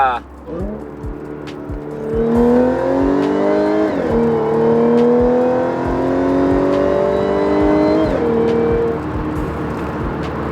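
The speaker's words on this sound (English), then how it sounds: "I wasn't sure about the whine, but now I think it's growing on me" A loud car engine revs repeatedly, a high supercharger-like whine rising and falling in pitch with each throttle blip, close by and steady.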